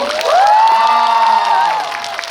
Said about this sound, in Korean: 영화 재밌다고 생각하시는 분들만 박수 좀 부탁드릴게요